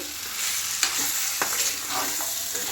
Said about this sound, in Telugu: ఈ చికెన్ మసాలాకి మంచిగా పట్టేట్టు మంచిగా కలపాలి